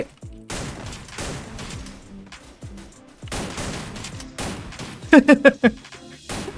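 Gunfire in the mobile battle royale game Free Fire comes in repeated bursts of shots, with a tight rapid volley near the end, loud and close.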